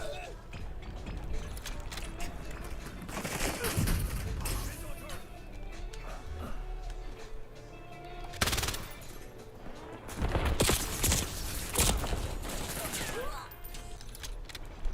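Hip-fire gunfire in the video game Black Ops 7, bursts of rapid automatic shots with mechanical clatter, loud and intermittent, heard under ongoing talk.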